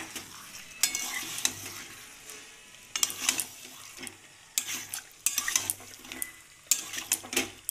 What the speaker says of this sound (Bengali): এইবার এটাকে আমরা মিক্স করে ভালো করে কষিয়ে নেব